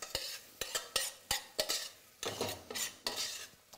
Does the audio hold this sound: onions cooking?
yes